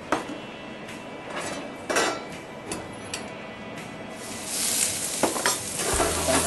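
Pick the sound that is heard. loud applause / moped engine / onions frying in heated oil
onions frying in heated oil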